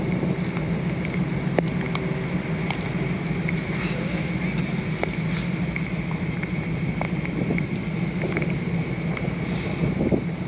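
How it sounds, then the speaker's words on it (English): Rain falling outdoors through a rainy morning at a car show and swap meet, a steady broadband hiss with scattered patter and drips, some wind noise mixed in. "It has been raining like all morning."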